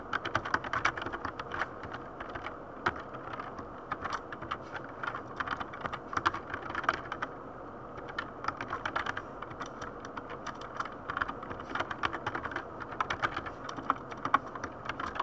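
Steady typing on a computer keyboard while Node.js server code is entered, a continuous run of close, crisp key clicks with uneven rhythm and small pauses, no voice over it.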